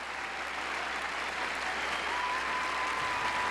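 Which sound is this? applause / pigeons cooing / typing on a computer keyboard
applause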